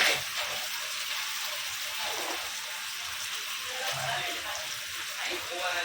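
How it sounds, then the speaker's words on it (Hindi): Spice masala frying in hot oil with curry leaves, garlic and fenugreek seeds for a Kokani-style dal: a soft, steady crackling sizzle, fairly quiet and continuous. "अभी ये खुशबू आने तक ये मसाला भूनेंगे"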